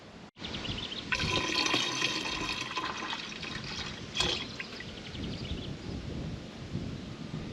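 Liquid rinsed into a container while mixing homemade 2,4-D brush killer: a steady gushing pour and splash that runs for several seconds, fairly close, then tapers into softer trickling with no talking.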